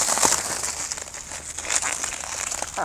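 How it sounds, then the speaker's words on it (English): Wrapping paper is torn and crumpled off a gift-wrapped picture, with close, crinkly rustling and irregular tearing bursts continuing throughout. "You help me unwrap it."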